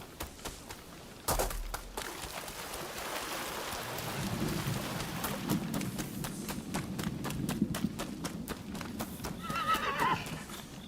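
Horse hooves clatter and a horse neighs in the samurai action game Rise of the Ronin, the hoofbeats quick and repeated over a rumbling ambient bed with rain and thunder, a sharp thud near the start.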